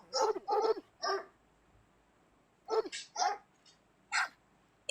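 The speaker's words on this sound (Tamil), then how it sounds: "நாய்." Recorded dog barking played back from a phone search, with a few sharp barks in two clusters separated by a silent gap, clear and close.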